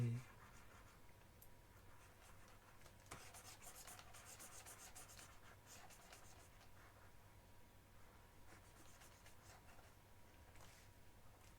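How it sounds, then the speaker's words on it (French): Eraser rubbing over a paper drawing, faint scratchy rubbing strokes in short bursts, very quiet, with a little low room noise. "je gomme un peu là où j'ai dépassé"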